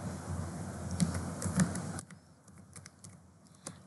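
HTML table code is typed on a computer keyboard as a brisk run of close, light key clicks, busier at first and sparser after a slight drop in the background hum.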